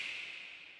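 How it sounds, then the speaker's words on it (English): Long snap sample from the TS Mammoth pack, a faint, brief, airy noise burst that hisses and slowly fades. "we're introducing this long snap from the TS Mammoth pack on Splice, which sounds like this."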